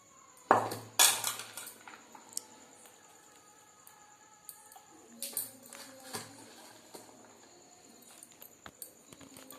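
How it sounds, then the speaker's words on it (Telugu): Chopped onions, coriander and curry leaves being stirred into dosa batter in a bowl: a few sharp spoon clinks against the bowl, then soft wet scraping and mixing sounds, close and intermittent. "ఇవి మంచిగా కలుపుకొని అట్లు పోసుకోవాలా."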